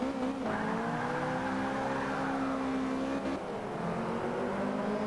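A Toyota race car engine in Forza Motorsport 5 revs hard and climbs through the gears, loud and close, with brief tire squeal and no talk.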